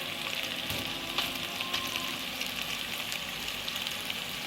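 Kofta for a Dawood Basha dish with potatoes fries in a pan filled with rendered fat, giving a steady, close, broadband sizzle and crackle that holds evenly throughout with no talking.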